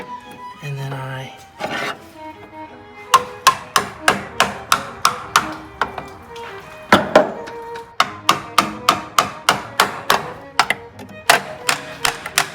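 Repeated hammer blows strike a stuck bolt to drive it out, sharp metallic impacts in quick, steady rhythm, close and loud, with brief pauses between bursts; a voice speaks briefly at the start.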